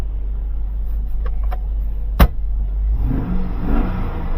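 A low, steady Cadillac Escalade EXT engine idle with a sharp click midway, then the engine revs up and rumbles louder toward the end.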